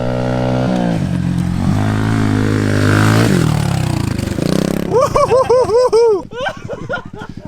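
A pit bike engine revs hard during a dirt jump, a buzzy motor note rising and falling in quick bursts, then choppy repeated blips as the throttle snaps on and off, loud and near, with a voice briefly heard.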